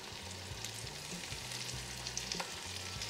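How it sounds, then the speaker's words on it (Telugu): Onions with cumin, garlic and green chillies sautéing in a pan, a close, steady sizzle with stirring scrapes, short and alone without speech. "ఇది ట్రాన్స్లూసెంట్ అయ్యే వరకు సోతే చేయాలి."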